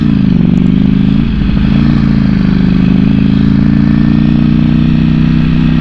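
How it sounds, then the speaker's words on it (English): A new Ducati motorcycle engine drones loud and steady while riding, close up and continuous, with wind rush and no talking. "Ducati coming through. 3rd, 4th, 5th, 6th, 80 miles an hour"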